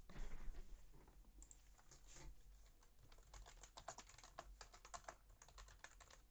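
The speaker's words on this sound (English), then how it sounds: "Oh no! She's typing." Rapid typing on a computer keyboard indoors, soft irregular bursts of key clicks running continuously over several seconds, faint and close with no talking.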